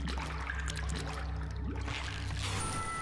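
Water trickles and laps steadily in the Candleman video game, a continuous soft ambient flow with low rumbling tones and no talking.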